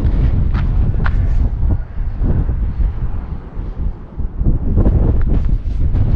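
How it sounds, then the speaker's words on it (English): Strong wind at an RV park on Dyess Air Force Base buffets the microphone in loud, uneven low gusts that dip briefly in the middle before surging again. "Windy today."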